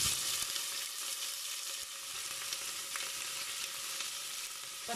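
Steady, dense sizzling of onions frying in vegetable oil in a pot, close and continuous, with faint stirring scrapes and no talking.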